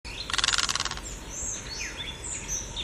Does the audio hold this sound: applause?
no